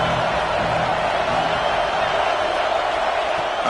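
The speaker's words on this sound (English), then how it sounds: "Third down and the crowd really getting into it" Football stadium crowd at a KML vs Florida game roaring on third down, a dense, steady wall of cheering with no break, under some faint talk.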